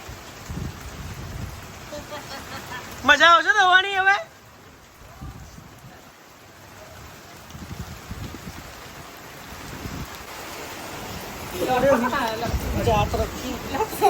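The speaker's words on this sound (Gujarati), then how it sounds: "એકદમ ફૂલ વરસાદ ચાલુ થઈ ગયો છે." Heavy monsoon rain pours down in a steady, dense hiss that fills the whole stretch. A voice talks over it now and then.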